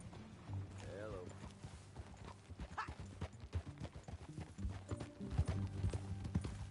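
Steady clip-clop of horse hooves at a trotting rhythm in Red Dead Redemption 2, with a horse whinny early on and people talking over the hoofbeats.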